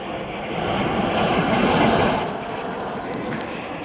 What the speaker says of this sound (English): Okay, airplanes are coming down.